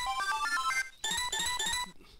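Melodic phone ringtone chiming in quick repeated phrases, fairly close and clear, stopping abruptly and resuming before fading out.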